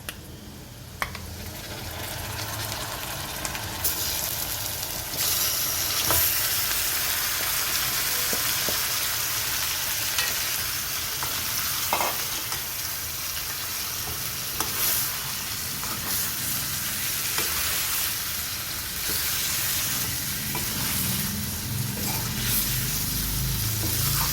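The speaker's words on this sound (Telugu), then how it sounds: "ఉల్లిపాయ ముక్కలు బాగా ఫ్రై అయిన తర్వాత మనం ముందుగా అరగంట పాటు మ్యారినేట్ చేసుకున్న చికెన్ని వేసుకోవాలి." Marinated chicken pieces frying in hot oil with well-fried onion pieces for butter chicken, a steady broadband sizzle that runs throughout with occasional stirring clicks and scrapes, close and continuous, no talking.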